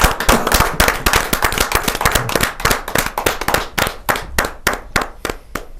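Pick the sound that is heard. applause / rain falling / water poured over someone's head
applause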